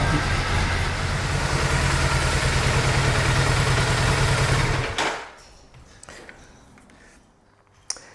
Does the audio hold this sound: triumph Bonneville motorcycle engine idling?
yes